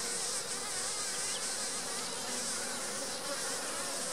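Honeybees hum in a dense, steady swarm while a beehive is split apart. The buzzing is close and constant, with no talking.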